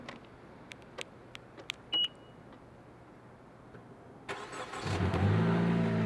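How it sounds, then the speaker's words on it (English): A car engine starts outside during snowfall in Indiana. A few faint clicks and a short beep come first, then the engine cranks, catches and revs up to a loud, steady running roar. "I'm gonna go start my car real quick"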